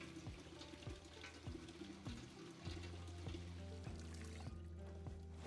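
Water pours into a container being refilled in the zombie survival game Project Zomboid, a quiet, steady liquid flow under layered game tones with soft recurring thumps.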